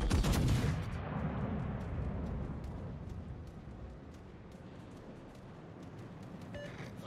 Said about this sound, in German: Meine Granaten, die fliegen in alle Richtungen gerade wieder.